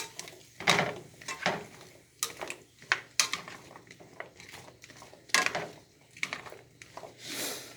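Chicken is stirred in a pan for Kung Pao chicken, with close, irregular scrapes, clinks and knocks of a utensil against the pan and no talking.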